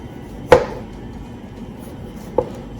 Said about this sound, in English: then I'll slice my tomatoes just into thin slices